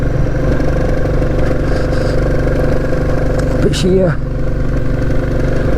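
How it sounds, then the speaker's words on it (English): A Royal Enfield Classic 350 single-cylinder engine running steadily while being ridden, a close, continuous low thrum with wind noise, and someone talking over it. "does pull reasonably well actually for a little 350cc engine"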